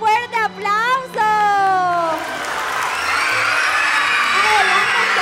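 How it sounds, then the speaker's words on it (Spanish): A children's audience at a live show claps and cheers, breaking into shouts and whoops after a voice speaks over the opening second or two; the crowd noise swells and stays loud. "Vamos a darle un fuerte aplauso."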